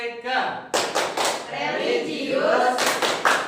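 A primary school class performs the Tepuk PPK clap, a loud, rhythmic run of group hand claps in bursts with children's voices chanting between and over them.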